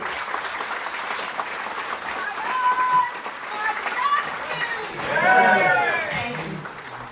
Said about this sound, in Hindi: जोरदार तालियों से उनका अभिनंदन कीजिए